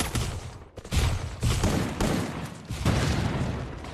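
A grenade going off in an online shooter game, with several heavy, booming blasts and rumbling gunfire layered in a dense, loud wash over four seconds.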